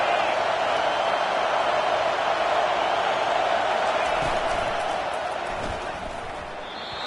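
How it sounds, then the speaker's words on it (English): Roaring college football stadium crowd at USC versus TCU as the defense takes the field on third down, a dense, sustained wall of cheering noise that barely changes over several seconds. "These fans are going absolutely nuts"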